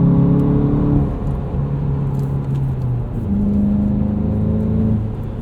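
A 2017 Volkswagen GTI Sport with a six-speed manual heard from the cabin as its engine pulls steadily under acceleration, a loud continuous drone that drops in pitch briefly at each gear change before climbing again.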